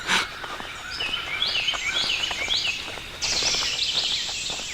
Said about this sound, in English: the birds are just singing their hearts out this morning.